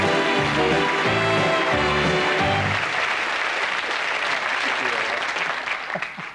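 A studio audience at the Big Break snooker game show claps for a contestant, a full wash of applause that starts over someone talking and music, then fades out toward the end.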